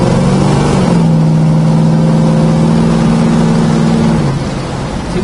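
A 1968 Plymouth Road Runner with an automatic transmission pulls hard, its engine note climbing loud and close before dropping as it shifts up, then settling into a lower steady drone.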